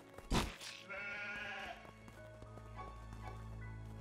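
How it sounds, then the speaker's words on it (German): A sheep bleats in the game Craftopia: one loud, near bleat opens, then a longer wavering bleat follows with a faint later cry, over a low background hum. "Das ist noch ein Schaf."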